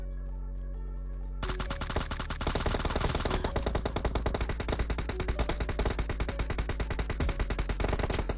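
Rapid automatic gunfire in PUBG Mobile played on an iPad mini 5. After a brief quiet musical intro, sustained, loud, closely spaced shots continue to the end.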